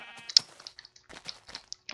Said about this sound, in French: ah des moutons